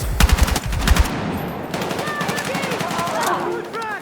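Rapid bursts of automatic gunfire in the Battlefield 6 campaign, loud and close at first, then giving way to scattered shots and combat noise under a dense battlefield din.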